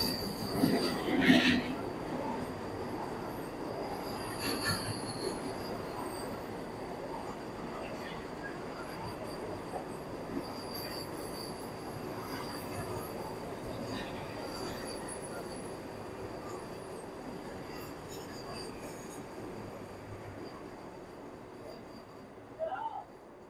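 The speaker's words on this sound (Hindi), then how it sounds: "ये आ गई है वंदे भारत एक्सप्रेस जो कि गांधीनगर कैपिटल से मुंबई सेंट्रल की ओर जाएगी" A Vande Bharat Express train pulls into a station on its run from Gandhinagar Capital to Mumbai Central, a broad rumbling wash of rolling wheels with high metallic squeals and a louder burst near the start, with some voices at times.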